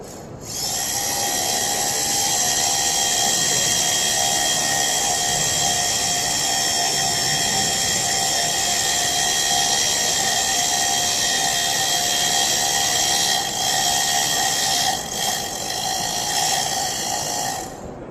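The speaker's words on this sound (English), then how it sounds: "I'm going to drill down like it's a 5-inch slab" A loud, steady drill whines continuously while boring into concrete, grinding close up for the whole stretch with slight wavers near the end.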